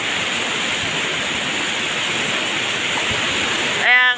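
A strong, swollen river rushes steadily close by in the rural countryside, a dense, unbroken roar of water filling the whole stretch, with a brief voice or clatter breaking in at the very end.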